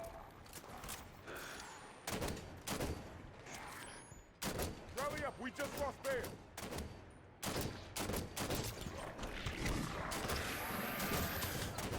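Rapid gunfire in Halo 5 aimed at a Knight's weak points comes in repeated loud bursts and volleys with impacts and crashes, broken by short pauses, over game noise.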